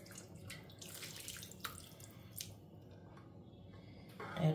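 Hot water poured from a flask into a pot of stew, a soft continuous watery splashing running steadily throughout, close by and fairly quiet, with a slight swell at the very end.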